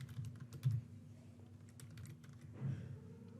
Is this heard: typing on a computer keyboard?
yes